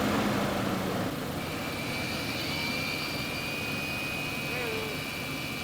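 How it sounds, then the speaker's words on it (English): A running Lexus engine gives off a steady high-pitched whooshing whine like a vacuum cleaner that does not follow the revs, droning evenly and fairly loud with no talk. "we have a bit of a, let's say, a high-pitched wooing sound that kind of sounds similar to a vacuum cleaner"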